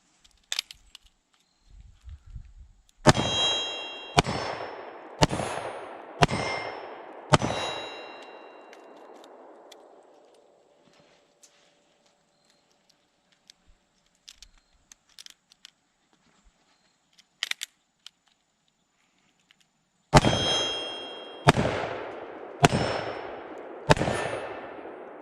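A Ruger LCR revolver fires a cylinder of .38 Plus P, then a cylinder of .357 Magnum, outdoors at a range: two groups of five loud, sharp, evenly spaced shots separated by a long quiet stretch with faint handling clicks.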